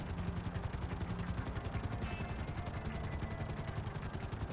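A helicopter in GTA Online thrums steadily with a fast, even rotor chop, fairly faint and unbroken throughout, with no voices over it.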